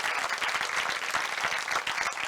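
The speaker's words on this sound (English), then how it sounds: "give her a round of applause and say we wish her well tonight" Audience applause at a UCD alumni evening at BAFTA, 195 Piccadilly in London: dense, steady clapping from a crowd filling the room, sustained at an even level for the whole stretch.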